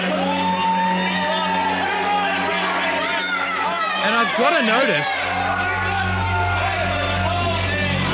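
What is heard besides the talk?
wrestling crowd cheering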